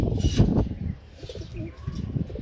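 Pigeons cooing in a loft, a few soft, low throaty coos up close, with a brief louder rustle near the start and quiet ambience between calls.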